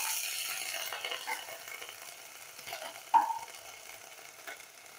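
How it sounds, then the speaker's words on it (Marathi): Crushed green chili being stirred in a pan with a spoon, giving a soft, steady scraping and faint sizzle close by, with one brief sharp clink of the spoon midway; no voices. "मिरचीचा ठेचा. हे थोडंसं आपण हलवून घेऊया."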